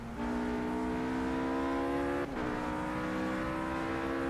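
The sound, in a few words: race car engine at Monza in video game Project Cars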